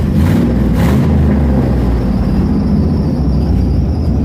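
A stock 6.0 engine from a 2005 Escalade, fitted in a race car, rumbles with a loud, heavy idle and a couple of quick throttle blips at the start, then settles into a steady, deep, close drone.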